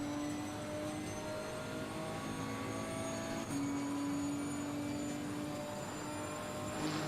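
Race car in Assetto Corsa Competizione giving a steady high mechanical whir and engine drone, with a brief shift in pitch midway, continuous and fairly loud throughout.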